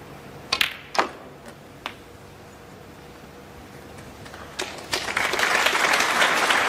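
Snooker spectators break into applause after a clearance, a few scattered claps at first that swell into steady clapping toward the end.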